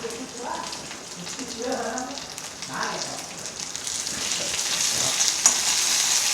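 A green chili and a couple of curry leaves frying in hot oil, a constant crackling sizzle that grows steadily louder and denser, with someone talking over the first half.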